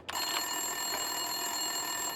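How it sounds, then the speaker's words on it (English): A desk telephone rings in a police precinct in Max Payne 2, a steady electronic bell tone that sounds continuously, fairly close and alone. "Winterson's phone was ringing."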